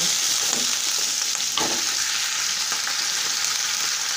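Green chilies, onion and mixed vegetables sizzle steadily in a hot pan, a dense continuous frying hiss with a few soft stirring clicks, close and fairly loud with no voices.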